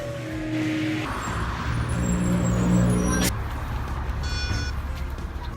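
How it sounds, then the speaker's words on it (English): A city bus pulls in to a stop near a SkyTrain station, its engine rumbling up close with a brief hiss of air brakes, a steady roadway drone underneath and some faint talk in the background. "Here comes the bus."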